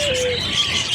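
Pet pigeons coo and chirp at close range, a short burst of soft calls with a brief whistly tone over a busy, noisy background.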